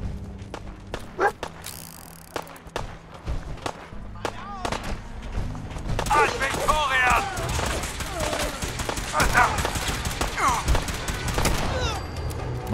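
Gunfire in Fallout 4 gives a few sharp isolated shots early, then heavier overlapping bursts and impacts while voices call out over the fighting.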